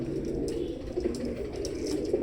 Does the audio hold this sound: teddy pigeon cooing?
yes